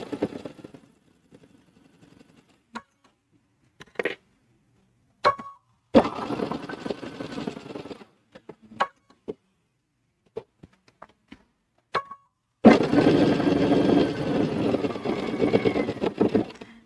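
A sewing machine stitches across a zipper's teeth, running in short bursts with brief pauses before a long continuous stretch of stitching close by.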